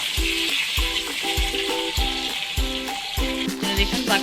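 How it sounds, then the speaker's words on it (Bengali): Leafy greens frying in hot oil in a pan for a golda chingri prawn curry give a steady, close sizzle, with regular rhythmic thumps and tones running alongside. "এবার আমি দিয়ে দিচ্ছি, শাকটা ভাজা হয়েছিল, শাকটা দিয়ে দিলাম।"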